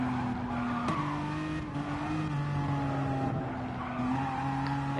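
An Aston Martin DB9 race car on a flying qualifying lap in a racing video game: a sustained engine drone rising and falling through gear changes, with tire skids and squeals, loud and continuous, no voices.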